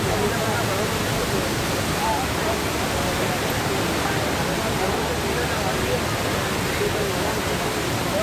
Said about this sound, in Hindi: हर तरफ बाढ़ के पानी ने डेरा डाल रखा है।